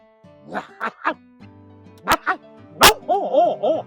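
A person mimics a dog, giving several short voiced barks and yips, then a longer whining, wavering bark-like call, fairly close and loud with gaps between bursts.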